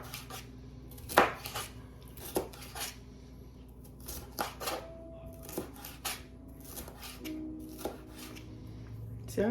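A red pepper chopped on a board, with irregular knife knocks and sharp taps, close and moderately loud, and a voice speaking now and then between the cuts.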